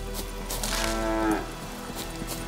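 A single drawn-out cow moo in the video game The Witcher 3, clear and fairly close, rising and falling over about a second, with faint background noise around it.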